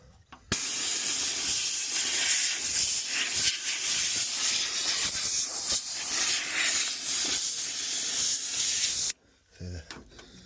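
Compressed air from a compressor blows dirt off a Mk3 Escort Bantam bakkie in one long, loud, steady hiss that starts abruptly and cuts off near the end, leaving faint background noise.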